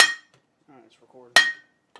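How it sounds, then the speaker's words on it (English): A big hammer taps a Honda Rancher 420 crankshaft out of the engine case, two sharp metallic clinks about a second apart with faint handling sounds between, no talk. "Gonna lightly tap it with a big hammer. We're gonna knock this out."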